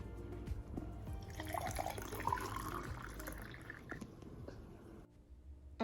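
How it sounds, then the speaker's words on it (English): Hot water pours into a cup over a frozen lemon, ginger and honey cube, a quiet, steady liquid stream with faint drips and squishy splashes, ending abruptly near the close. "so in the mornings I could just pop them in my cup and throw some hot water on"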